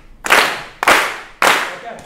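A keynote audience claps together in an even rhythm, three loud, sharp unison claps spaced about six-tenths of a second apart, with a faint start of a fourth at the end.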